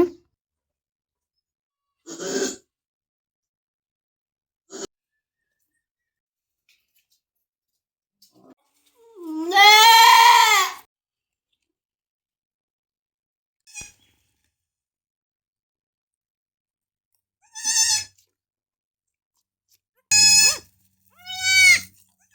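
Goats bleat on a farm shortly after a doe has given birth to kids, with several separate calls spread across the stretch: short, sharp cries and one longer, loud wavering bleat, mostly close by with quiet gaps between.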